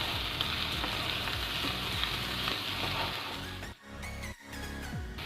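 Korean fried rice vegetables stir-frying in a hot pan, a loud continuous sizzle with rhythmic scraping and tossing of a spatula, briefly dipping twice near the end.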